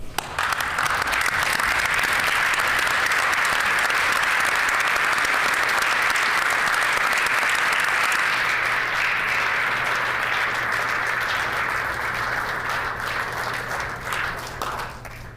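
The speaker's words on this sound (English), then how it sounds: "I invite my colleagues to join me in applauding the efforts of the Transcona Council for Seniors staff, volunteers, and members" Members of a legislative chamber and people in the public gallery give long, loud, sustained applause that holds steady for about fifteen seconds before gradually tapering off.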